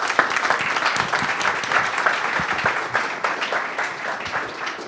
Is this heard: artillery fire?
no